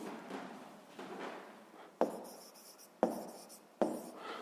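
A pen writes by hand on paper as numbers are written out during a sixth-grade maths exercise, giving soft scratching strokes with a few sharper taps, close and quiet, with no talk.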